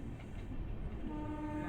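A train pulls in at Dankuni station on the Sealdah–Benaras Amrit Bharat Express run, a steady broad rumble with a horn-like tonal line rising near the end, no voices.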